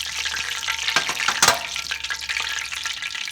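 Pork chops sizzle and crackle in hot oil in a pan, a steady loud frying hiss with sharper pops and spatters, one burst standing out near the middle.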